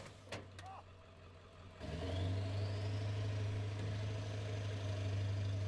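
A Ford Power Stroke diesel engine revs up loudly and close, a sharp rise after a quieter start settling into a steady heavy rumble. A brief voice is heard early on.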